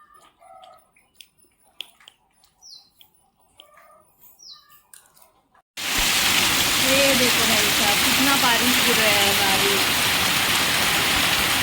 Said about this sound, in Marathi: पाऊस भरपूर पडते गावाला इतका पडतोय